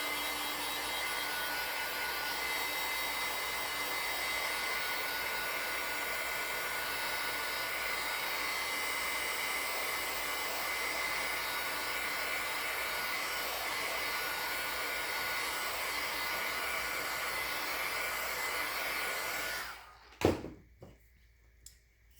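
A hair dryer blows steadily on a handmade holiday craft piece, a loud continuous whooshing drone lasting about twenty seconds before cutting off abruptly, followed by a brief clatter and near silence.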